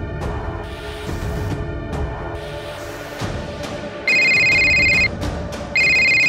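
A telephone ringing indoors in two loud electronic bursts, each about a second long with a short pause between, following a stretch of quieter room sound.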